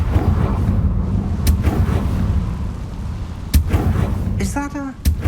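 The Confringo fire spell from Hogwarts Legacy lets off sharp, booming blasts, two loud bangs over a steady rumbling backdrop, and a voice speaks briefly near the end.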